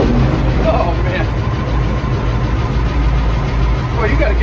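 A Steiger Bearcat tractor with a Caterpillar 3208 diesel engine runs at a loud, steady idle with a rough, rumbling throb close by, and a voice seems to be present under the engine noise.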